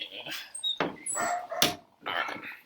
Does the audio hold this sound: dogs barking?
yes